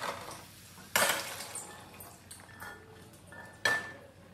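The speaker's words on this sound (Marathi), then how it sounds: "आणि यामध्ये थोडंसं पाणी टाकून आता हा मसाला परतून घ्यायचं, म्हणजे शिजवून घ्यायचं व्यवस्थित." A spoon clinks and scrapes against a pan while onion-tomato masala with a little added water is stirred, producing a few sharp metallic knocks over a quiet background.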